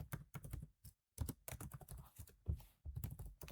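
Rapid clicking of computer keyboard keys in bursts with short pauses, close and clear, as a SQL query is typed out, with no one speaking.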